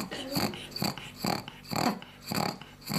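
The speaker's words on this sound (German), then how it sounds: "Mops Emma ist schwer krank. Und das hört man auch" A seriously ill pug snorts and wheezes in heavy, laboured breaths, about six rhythmic rasping pulls up close and loud, with no talking.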